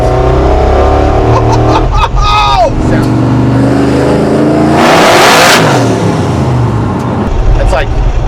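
A 1000-horsepower patina Chevrolet C10 truck with a full IRS chassis and side-exiting pipes ahead of the rear tires revs and accelerates hard on a rough road, a loud close exhaust roar that swells midway while people talk over it.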